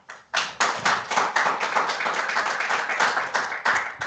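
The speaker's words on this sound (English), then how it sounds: "Let's do an active applause for," Audience applause at a quarterly meeting, a dense run of clapping that starts sharply and holds steady and fairly close throughout, with no talking.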